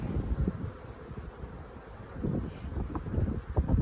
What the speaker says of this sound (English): Look at the bees.